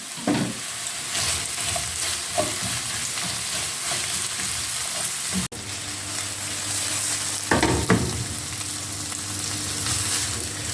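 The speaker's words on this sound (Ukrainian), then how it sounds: "І починаємо смажити." Steady loud sizzling of chicken liver frying in a pan over medium heat, with occasional scraping stirs, continuous throughout and no talking.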